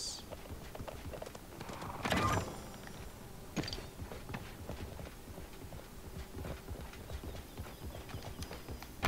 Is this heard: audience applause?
no